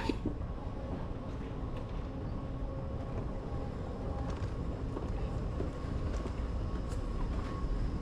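Steady rumbling of a moving Dubai Metro train, a continuous low roar with faint rattles and squeals, fairly distant and even throughout.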